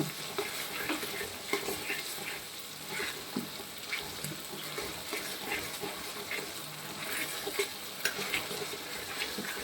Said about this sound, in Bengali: আদা রসুনের পেস্ট দিয়ে একটু এটাকে একটু ভালো করে মিক্সড করে নেব